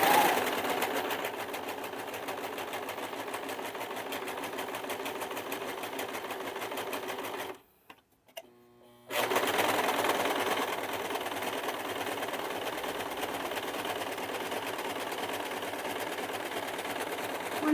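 A sewing machine runs steadily while stitching a ruffle, a continuous close whirring drone with a rapid rhythmic needle chatter that stops briefly for a second before resuming at the same pace.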